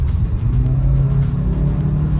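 A 2022 Maruti Suzuki XL6 automatic accelerating hard from about 40 km/h, its engine a loud steady drone with a low rising hum and road roar throughout, heard from inside the cabin with no talking.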